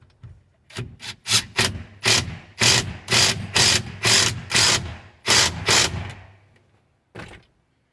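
An impact wrench works the steering wheel nut on an F250, a series of about a dozen sharp rattling bursts in a loose rhythm, with one last short burst after a pause.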